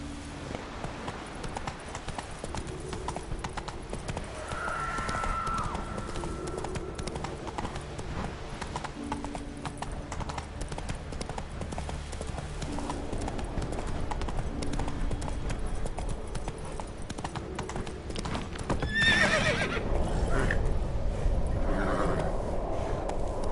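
A horse gallops with steady, driving hoofbeats through The Witcher 3 game, loud and continuous over a busy background, with a whinny or neigh breaking through near the end.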